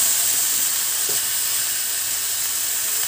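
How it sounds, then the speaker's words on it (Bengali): Bottle gourd leaves and stems with turmeric and coriander powder are stirred in a hot pan for a Bengali mixed-vegetable dish, giving a steady, loud, even frying hiss with one faint scrape of the spoon. "এখন সব ওপর নিচ করে ভালো করে একটু মিশিয়ে নিচ্ছি"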